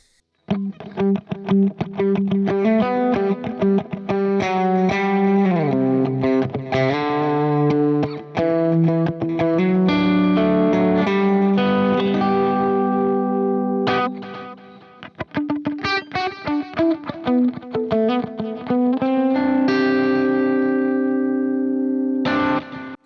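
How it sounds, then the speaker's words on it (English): Electric guitar phrases ring out through a Fractal FM3 with a dual delay set to quarter and dotted-eighth notes, each note echoing in rhythmic repeats that overlap into a shimmering, sustained wash. "starting with delay, I've got a dual delay going on, a quarter and a dotted eighth"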